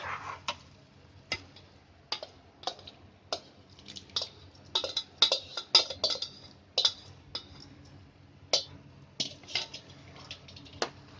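A spoon or ladle stirs a dal and spinach mixture in a kadhai over a low gas flame, giving sharp, intermittent clinks and scrapes against the metal at an uneven rhythm, close by, with no talking.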